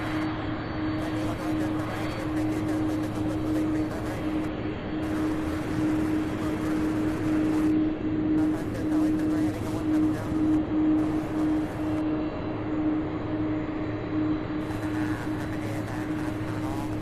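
UPS Boeing 767 taxiing at Louisville International Airport, a steady roaring jet whine with a sustained droning tone, continuous and moderately near, with faint voices in the background.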